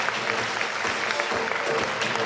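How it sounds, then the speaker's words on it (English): Steady applause from a group fills the whole stretch, continuous clapping at moderate loudness with a faint voice underneath. "Don't stop clapping."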